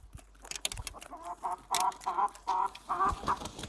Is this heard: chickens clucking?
yes